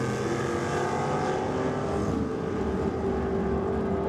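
Drag racing at Sydney Dragway, a Camaro against a Torana in Top Eliminator: a loud, steady roar of racing engines holds the full length, with no one talking over it.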